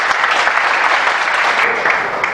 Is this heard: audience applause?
yes